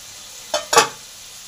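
Pointed gourd in a frying pan gives two brief, close scraping stir sounds over a faint sizzle, separated by a short pause.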